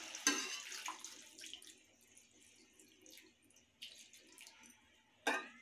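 Water pours from a glass into a simmering chicken curry pot with soft splashes and trickles, faint and close, separated by quiet kitchen pauses and ending in a sharper splash.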